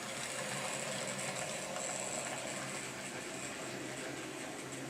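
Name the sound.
model train locomotives running around a reversing loop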